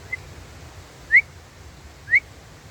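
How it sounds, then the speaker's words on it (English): A person whistles in the Wood of Cree woodland: a faint short chirp, then two clear, rising whistles about a second apart that stand out over quiet outdoor background. "I heard this unusual whistle"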